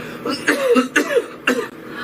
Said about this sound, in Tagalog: Sobra 3 ka semana nga pag-ubo.